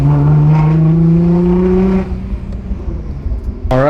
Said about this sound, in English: Oh, you gotta love that downshift.